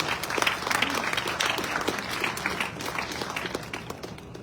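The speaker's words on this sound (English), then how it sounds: "A round of applause, please." A crowd claps for Marines during a military retirement speech, with dense, even applause throughout and a little voice murmur in the room.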